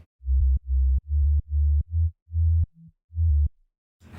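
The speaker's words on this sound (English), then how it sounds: "Finally we have the sub bass, which sounds like this." A deep, smooth sub bass pulses in a steady pattern of low, rounded notes with little high end, ending with a short noisy click.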